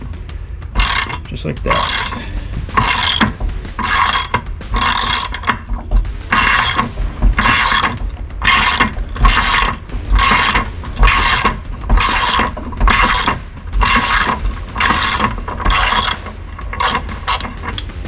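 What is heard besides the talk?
ratchet turning the prop nut on a Mercury Optimax 225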